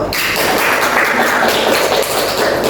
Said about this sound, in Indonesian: Silakan aplaus dulu